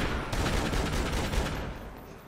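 Assault rifle fire in the video game Dead Rising 3, a rapid burst of dense, overlapping shots at close range that fades slightly toward the end, with no voice over it.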